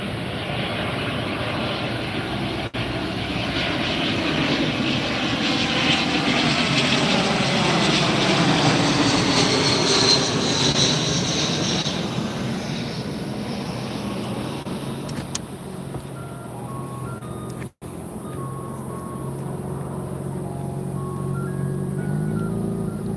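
A JetBlue jet airliner in a special Vets in Blue livery passes at Tampa airport, its engine roar swelling and then fading over about twenty seconds.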